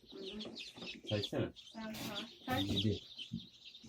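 High chick peeps chirp steadily in the background while people talk nearby.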